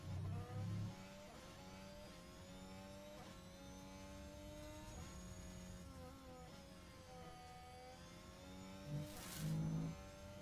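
A Red Bull Formula 1 car on a qualifying lap at the Austrian Grand Prix, its high-pitched engine screaming steadily with rising and falling revs through gear changes, loud and close, with a brief louder burst near the end.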